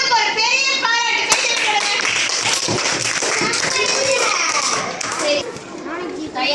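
Children clap and cheer for a group of classmates in a classroom, the applause busy and continuous with excited kids' voices mixed throughout.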